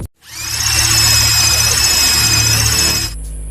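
A power drill whines at a steady high pitch for about three seconds, close and loud with a squealing edge, in a scene from the 2015 thriller The Deal, then cuts off abruptly.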